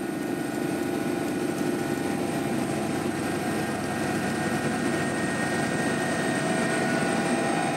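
A constant, droning helicopter engine and rotor hum heard from inside the cabin of a mountain rescue helicopter, steady and loud throughout with no pauses.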